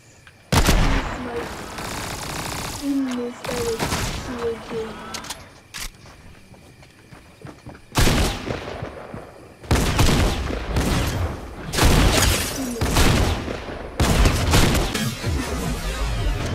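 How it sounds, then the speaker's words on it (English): Gunfire from other players in Fortnite, bursts of rapid shots in several clusters, loud and close, broken by short quiet gaps, with bird-like chirps early on and a player speaking. "Somebody else is shooting."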